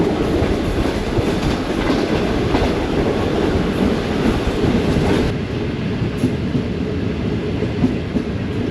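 Steady rolling roar and clickety-clack of the Tezgam express train on the main line near Okara station, loud and continuous, dipping slightly in brightness partway through.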